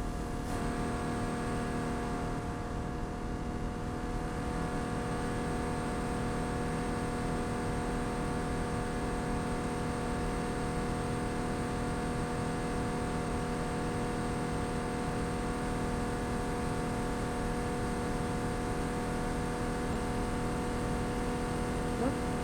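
Porsche diesel engine running at a steady, sustained drone with strong harmonic hum, held throughout with little change in revs.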